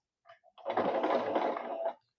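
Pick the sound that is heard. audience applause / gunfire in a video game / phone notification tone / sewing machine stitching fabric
sewing machine stitching fabric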